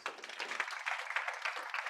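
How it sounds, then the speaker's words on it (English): Workshop audience giving a round of applause, a dense, fairly faint patter of many hands clapping steadily for a couple of seconds. "Give them a round of applause."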